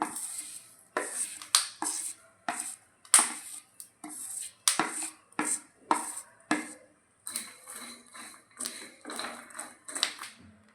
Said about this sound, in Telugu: తర్వాత ఎండు కొబ్బరి, తర్వాత నువ్వులు కూడా వేయించాలండి దీంట్లోనే.